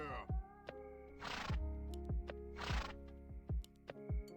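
A horse whinnies twice in the fantasy strategy game Binders, with short breathy bursts rising over a steady low game drone and clicking sounds, and someone talks around it.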